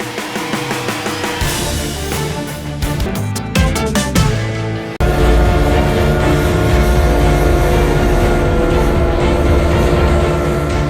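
A train rumbles past on the rails, loud and close, with a steady heavy roar after a stretch of clattering, banging wheel noise.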